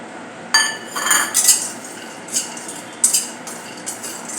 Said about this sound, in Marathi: काजू भाजून घेऊया